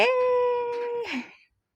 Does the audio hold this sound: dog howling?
yes